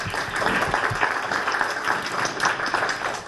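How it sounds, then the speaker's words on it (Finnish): An audience at a workshop summary session applauds steadily to thank the chairs and secretaries, a dense, sustained burst of clapping with no talk. "me kaikki kiitämme puheenjohtajia, sihteereitä ja kaikki työskentelyyn osallistuneita taputuksin"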